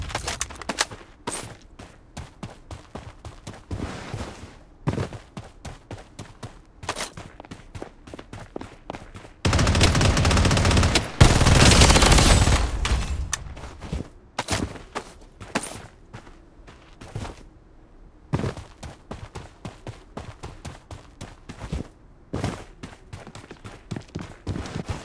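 Bursts of gunfire from the Blood Strike battle royale shooter, with rapid single shots and short automatic volleys scattered throughout, plus a loud sustained roar of dense firing in the middle, mixed with footsteps and game effects.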